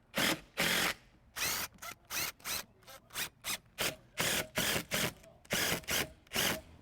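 A screw driven into wooden trim on the exterior of a seaside Victorian cottage: repeated loud, close bursts of driver whirring and grinding, one after another in a steady stop-start rhythm.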